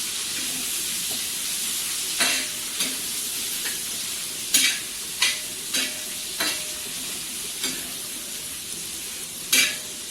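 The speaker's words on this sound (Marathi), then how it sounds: "अगदी कुरकुरीत होईपर्यंत फ्राय करायचे।" Dry Bombay duck (bombil) pieces fry in a pan of oil with a steady soft sizzle, broken by a series of sharp stirring scrapes close by.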